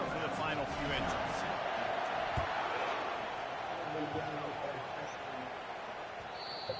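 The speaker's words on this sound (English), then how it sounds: "The ball bounces through the end zone" A football bounces through the end zone in a Madden game: one brief thud rises over a steady roar of stadium crowd noise.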